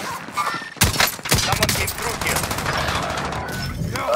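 Shotgun fire in the video game Call of Duty: Warzone, with sharp, loud blasts early on followed by rapid overlapping gunfire. A voice talks over the shooting.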